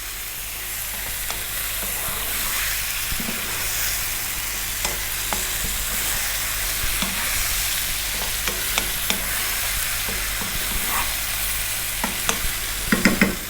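White fillet fish pieces fry in a pan for a South Indian fish curry, sizzling steadily while a utensil stirs and turns them, with soft scraping clicks over the constant hiss.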